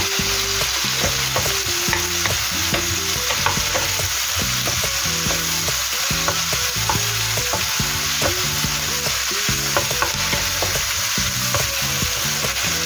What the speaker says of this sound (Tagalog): kapag po nagisa na natin ang ating sibuyas, lagay na po natin ang ating bawang.